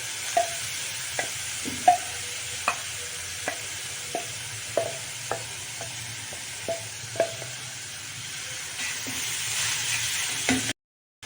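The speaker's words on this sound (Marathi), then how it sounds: "आपण ती जास्त दिवस टिकावे म्हणून तेलात परतून घेतो" Amla (gooseberry) chutney being sautéed in oil: a soft, steady frying hiss with a dozen or so distinct spoon taps and scrapes against the pan at irregular intervals, ending abruptly.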